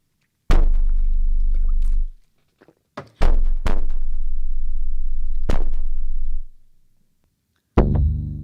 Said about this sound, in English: Bass percussive thump.